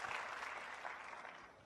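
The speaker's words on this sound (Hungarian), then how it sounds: "Tapsoljuk meg őket!" Church audience applause fills the whole short stretch: steady, dense clapping from many hands at moderate volume, with no talking over it.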